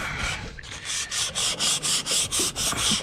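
Teak edges sanded by hand, a close, fairly loud dry rasping in a steady back-and-forth rhythm of about ten even strokes that grow more regular as it goes.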